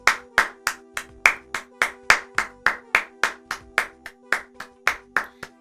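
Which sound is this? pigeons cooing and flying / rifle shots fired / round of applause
round of applause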